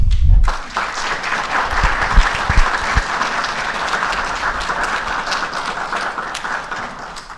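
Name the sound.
audience applause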